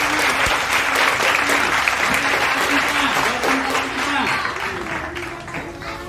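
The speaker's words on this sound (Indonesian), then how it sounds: "tepuk tangan untuk Aisyah" A classroom of students applauding for a classmate, steady dense clapping throughout with a voice speaking over it.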